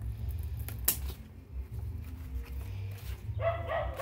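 A small dog barks in a short burst of yips near the end, close by, over low background hum and a neighbour's music.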